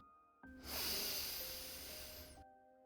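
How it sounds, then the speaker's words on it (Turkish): A single long, slow breath drawn in through the nose during a guided meditation, hissing softly and close up against faint background tones, with no talking over it. "Son kez burnundan derin bir nefes al"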